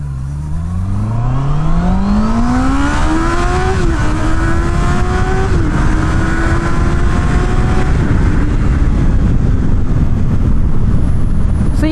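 A Honda CB650R motorcycle accelerating hard through the gears, engine pitch climbing steeply then rising again after each quick shift, loud and close with wind rush and no talk.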